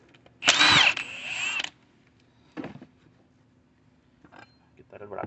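A power tool zips nuts off the power steering bracket of a 2004 Chevy Silverado 4.3, one loud, close whirring burst of about a second followed by a few quieter clunks and handling noises.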